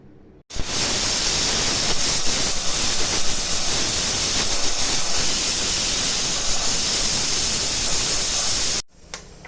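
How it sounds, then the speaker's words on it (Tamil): A kitchen mixer grinder grinds cashews with grated coconut into a paste, making a loud, steady whirring roar that starts abruptly, runs unbroken for about eight seconds and then cuts off. "நல்லா பேஸ்ட்டாக அரைச்சிக்கலாமா."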